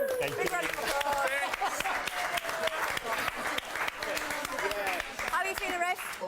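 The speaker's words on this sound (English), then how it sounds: "Big round of applause." A small group applauds the winning team with lively clapping heard close by, while several people talk, cheer and chatter over it throughout.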